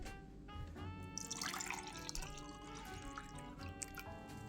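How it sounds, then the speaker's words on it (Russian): Homemade lady's mantle lemonade pours into a glass, a soft continuous splashing and trickling of liquid that stays fairly quiet and steady throughout. "Наливаем его в стакан."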